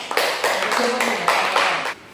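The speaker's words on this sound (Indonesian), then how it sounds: "Tepuk tangan untuk kita semua." Classroom of students clapping hands together during a Catholic religious education lesson, a dense burst of overlapping claps lasting about two seconds with some voices mixed in.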